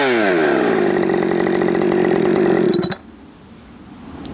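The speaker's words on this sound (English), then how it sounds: "Husky 5 series, you got to pump that primer and you got to set it on high idle to restart" A Husqvarna 562xp chainsaw runs at high idle close by, a loud, steady buzzing drone that cuts off abruptly near the three-second mark, leaving only quiet background.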